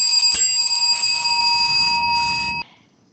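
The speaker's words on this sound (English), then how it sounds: "For the first 12 minutes of your presentation, and we will ring the bell 3 times." An electric bell rings continuously for about two and a half seconds to time a conference presentation, a loud steady metallic tone that then cuts off abruptly into quiet.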